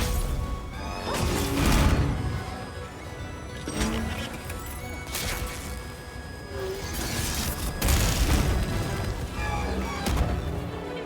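A fiery blast weapon fires in a Monster Hunter Wilds battle, loud crashing booms and whooshes over a busy game mix of combat noise and music, with a player talking over it.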